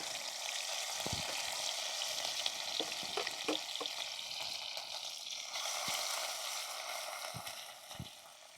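Green chili drops into hot oil already holding cumin and mustard seeds, cooked for a raw moong dal amti. A steady, close sizzle runs throughout, broken by sharp pops and stirring clicks.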